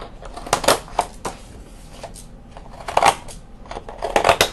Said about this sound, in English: I've had these decorative scissors for years.